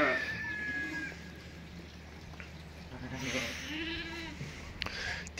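Suckling dairy lambs on a farm bleating as they reunite with their mothers, several short, high calls coming and going at moderate distance, with low chatter from people alongside.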